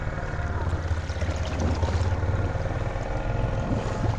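An ATV crawling slowly through a flooded creek, its engine a low steady rumble under rushing water and wind noise, loud and close throughout.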